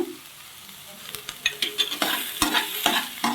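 Mustard seeds, fenugreek and cumin fry in hot oil for a village-style chukkakura chutney, starting as a quiet hiss and building into sharp, irregular crackles and pops, close-up with no talking.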